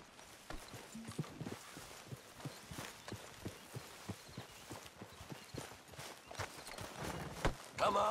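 Horse hooves clip-clop at a steady walking rhythm in the video game Red Dead Redemption 2, near and moderately loud over a low ambient background, with a brief louder rustle toward the end.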